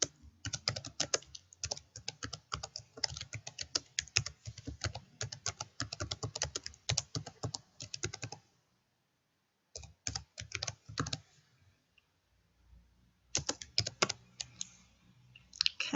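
Someone types a password on a computer keyboard in quick bursts of close, crisp key clicks, with a short pause partway through before typing resumes.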